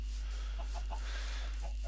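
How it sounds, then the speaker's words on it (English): Chickens clucking in a Minecraft-like block-building game, several short soft clucks scattered across a quiet background, faint and alone without talk. "So over here I've got my chickens, plenty of room for them to move around"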